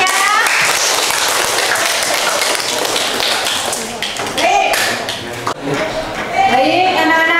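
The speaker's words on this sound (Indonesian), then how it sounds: "Tepuk tangan untuk kalian semuanya." Students in a classroom clap after group presentations, producing a dense, close patter of hand claps with scattered taps and thumps, while brief voices and chatter rise through it.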